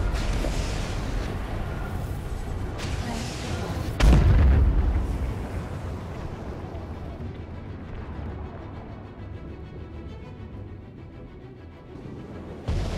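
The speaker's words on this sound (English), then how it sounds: "Who the fuck's using missiles?" Missile fire and explosions in Star Citizen Arena Commander space combat, with a loud booming blast a few seconds in over a continuous rumbling roar of the battle that slowly fades.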